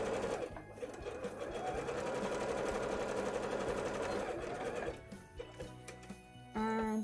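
A sewing machine runs a zigzag stitch on cosplay bodice fabric, a steady close mechanical whirr for several seconds, then stopping into a few clunks before a brief restart.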